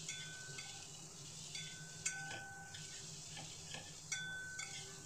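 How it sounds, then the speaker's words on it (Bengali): Chopped onions fry in a pan with a soft, low sizzle while a utensil stirs them, scraping and clinking against the metal at a few points. "যে কুচিয়ে রেখেছিলাম সেই পেঁয়াজের টুকরোগুলো দিয়ে দিচ্ছি। দিয়ে আবার একটু নাড়িয়ে নেব।"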